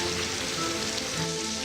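A rain sound effect in a TV weather programme promo forms a continuous, even hiss of falling rain with no voices over it.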